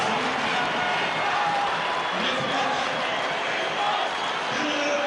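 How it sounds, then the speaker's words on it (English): A capacity crowd at a Hong Kong rugby sevens stadium cheers and applauds in celebration, a dense, steady roar of many voices and clapping that fills the whole stretch, with a commentator speaking over it. "Celebration from the capacity crowd."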